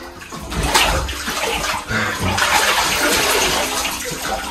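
Water splashing and churning loudly and continuously, as if someone is moving around in a filled tub or pool during a balloon fight, close by and with no voices.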